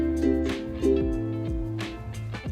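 Ukulele strummed in a steady down-up pattern, bright chords repeating in an even rhythm with clear strokes, played close and alone.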